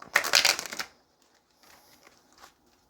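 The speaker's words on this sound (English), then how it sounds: "Let's get one more shuffle here" A deck of tarot cards is riffle-shuffled in a single quick, crisp flurry lasting under a second, followed by softer rustling and light card taps.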